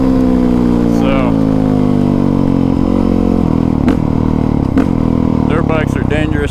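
A 2020 Honda CRF450R dirt bike engine runs steadily and loudly throughout, its strong low harmonics shifting slightly as the rider moves, with occasional clatter from the bike.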